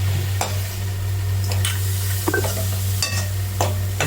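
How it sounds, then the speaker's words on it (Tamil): Spice powder stirred into paneer pepper fry in a hot pan, with a constant sizzle over a low hum and a few distinct scraping strokes of the spoon across the pan, close up and without talking. "இது வந்தோடனே அந்த பொடியை போட்டு கிண்டிக்க வேண்டியதான்"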